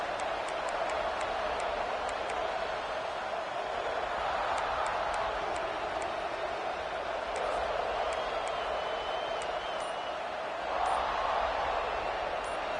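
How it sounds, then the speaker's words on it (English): A stadium crowd roars in a college football video game, a dense, steady wash of noise that stays loud throughout, with commentary voices running over it. "This crowd ready to make its presence known."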